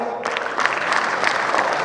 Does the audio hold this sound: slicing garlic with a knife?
no